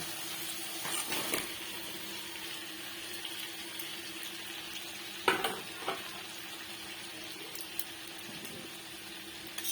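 Fried potato and taro go into hot oil in a pan for a curry, with a soft ongoing sizzle, occasional clatters and scrapes from stirring, and a few louder knocks of the utensil.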